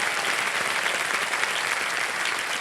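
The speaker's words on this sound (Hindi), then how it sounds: "थोड़ा एक बार फिर से जोरदार तालियां बज जाए हमारे" Loud, dense applause from a studio audience on a TV quiz show, a continuous wash of clapping from many hands with no pauses.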